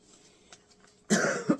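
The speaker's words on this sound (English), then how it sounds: "I still have the cough" A sudden burst of coughing, two harsh hacks close together at close range, after a near-silent stretch.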